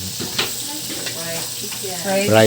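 Crispy fried chicken frying for a party in a busy kitchen: a steady, moderately loud sizzle with stirring, swelling near the end, under voices and kitchen bustle.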